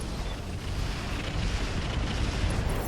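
Heavy, sustained rumbling roar from an artillery strike in the RogueTech mod of BattleTech, dense low boom and wash of debris noise filling the whole stretch at steady loudness, no voices.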